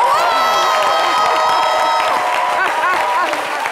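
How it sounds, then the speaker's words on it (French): Studio audience applause and cheering on a French daytime TV talk show: steady, loud clapping mixed with crowd whoops that carries through the whole stretch, with voices mingled in. "Moi-même, j'ai envie d'applaudir comme ça."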